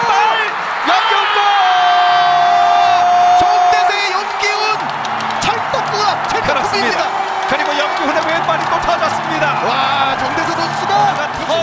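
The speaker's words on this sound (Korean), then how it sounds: "뻗어나갈 것 같은 엄청난 함성" A huge stadium crowd roars and cheers through a K League Classic football match between Suwon and Seoul, a loud, sustained wall of noise with whoops and shouts rising over it.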